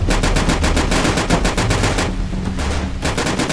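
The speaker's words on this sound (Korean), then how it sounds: "총알이 무한이기 때문에 쏴도 돼요" Rapid automatic gunfire from a zombie survival video game, with loud, dense bursts of shots repeating continuously and one brief pause before the firing resumes.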